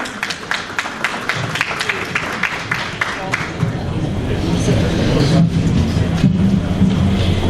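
An audience gives a round of applause at a presentation event, with distinct claps at first, then a broader swell of crowd noise and voices talking underneath.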